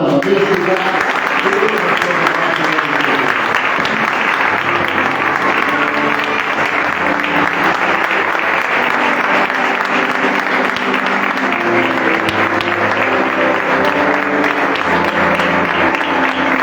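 A church congregation claps for the Lord during a missionary conference service: dense, sustained applause from a large crowd, loud and unbroken throughout.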